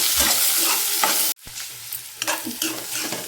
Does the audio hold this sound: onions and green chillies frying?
yes